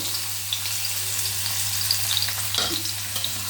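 Garlic frying in a hot kadai gives a steady, dense sizzle with small crackles and a faint scrape of stirring partway through, close and continuous.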